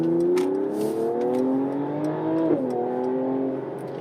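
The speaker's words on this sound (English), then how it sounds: "I can hear the turbo." A Mercedes-AMG CLS 53 4Matic+ pulls away from a stop, its engine note climbing steadily with a turbo spooling up, heard from inside the car; the rising tone dips briefly mid-pull, then eases off.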